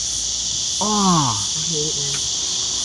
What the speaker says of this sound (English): No, it's crickets, babe.